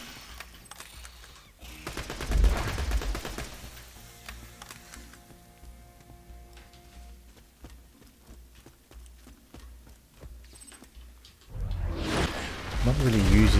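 Rapid pistol gunfire in Borderlands 3 crackles in quick repeated shots, loud in bursts at the start and again near the end, with a quieter stretch of game sounds between.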